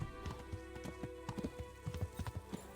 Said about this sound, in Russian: Блин, как же классно на лошади-то бегать.